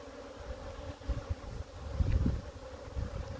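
Honey bees buzzing around an open brood frame of a mating nuc, a faint, continuous low drone outdoors with wind buffeting the microphone in soft gusts.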